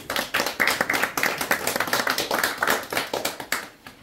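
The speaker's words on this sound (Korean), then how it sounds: "힘찬 환영의 박수를 부탁드립니다" A small audience at a lecture claps in welcome, individual hand claps clearly audible in an uneven rhythm that tapers off near the end.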